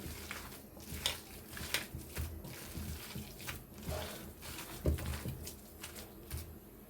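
Water is poured and mixed into a mint pakora batter, making soft irregular splashes, squelches and pats close by, fairly quiet.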